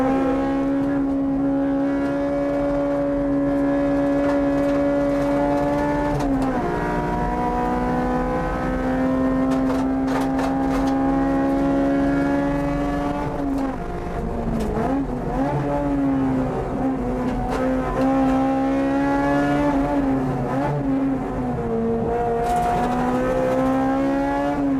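A Honda Civic Type R lapping a race track, its engine revving loud and close with rising and falling pitch through gear changes and a few short lifts off the throttle, alone without talk.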